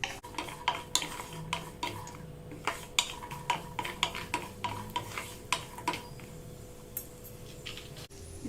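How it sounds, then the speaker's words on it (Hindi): A utensil scrapes and taps rhythmically against a pan as almonds roast in ghee, soft regular clicks over a faint sizzle, close by with no talk. "घी में ड्राई फ्रूट को रोस्ट कर ले रहे हैं। पहले बादाम रोस्ट कर रहे हैं।"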